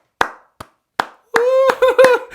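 A few sparse, hesitant claps ring out in a quiet room, followed by a voice humming a wavering melodic tune that imitates awkward parental applause, interspersed with more scattered claps.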